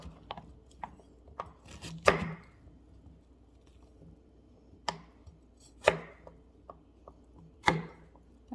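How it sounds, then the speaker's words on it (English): A kitchen knife chops butternut squash into chunks for curry soup. Sharp chopping strikes hit a cutting board at irregular intervals, about six firm chops plus several lighter taps, close and clear with no talking. "I like to cut it in smaller chunks because then it roasts faster."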